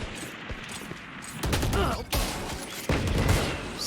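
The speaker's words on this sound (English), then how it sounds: "The entire matchup here, just so many gunshots." Gunfire in a competitive video game grand finals deathmatch, with faint scattered shots giving way to loud bursts of rapid fire and booms in the second half.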